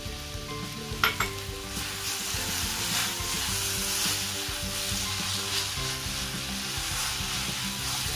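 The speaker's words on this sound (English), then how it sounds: "Sugar is melting and it's mixing with Sagudana" Sugar melts and bubbles with soaked sago in a pan, giving a steady close sizzle with soft stirring scrapes and a brief sharp clink near the start.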